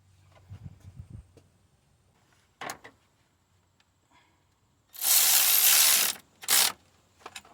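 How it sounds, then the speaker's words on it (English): A ratchet with a wobble adapter and 12mm socket works on the starter bolt of a 2003–2012 Honda Accord 2.4L engine, giving a few brief soft clicks early, then later louder bursts of broadband noise. "Then I'm gonna use this wobble adapter here, swivel, and a 12mm bolt. 12mm socket here, small one."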